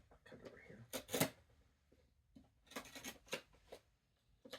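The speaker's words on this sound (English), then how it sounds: "Oh, I'm gonna cut it over here." Scissors cut open product packaging close up in a few brief snipping and crinkling bursts, separated by quiet pauses, with a faint voice underneath.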